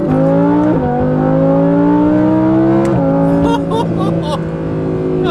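An Audi R8 V10 Plus with an aftermarket exhaust revs loudly up close, its deep engine tone climbing in stepped pulls before breaking into crackles, with a voice faintly underneath.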